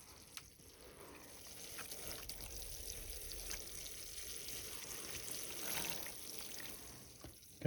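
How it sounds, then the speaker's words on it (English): Water pours onto the soil around a newly planted ginkgo in a steady, soft outdoor stream, faint and continuous with no voices. "get some water on this thing."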